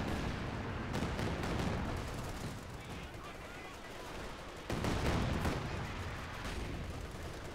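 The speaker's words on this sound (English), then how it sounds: "Double Jackson opening fire against the Panther there" M36 Jackson tank destroyers firing at a Panther in a Company of Heroes 2 4v4 battle, heavy cannon shots and scattered gunfire over a constant battlefield din, with a louder report about two-thirds of the way through.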